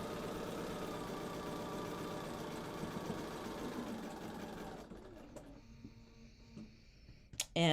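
Sewing machine stitching a quilt block seam toward a point, a close, steady mechanical hum for about five seconds, then stopping, followed by faint handling clicks and a sharp tap at the end.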